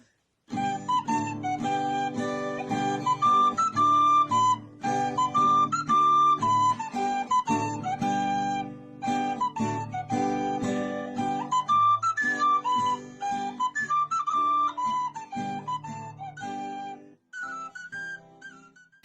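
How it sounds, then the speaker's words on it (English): A tin whistle plays a lively tune over strummed guitar accompaniment, bright and clear, with brief pauses between phrases. "One of my lockdown projects was to learn to play this tin whistle properly"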